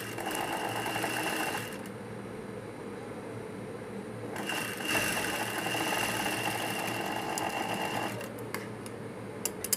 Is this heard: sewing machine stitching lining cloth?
yes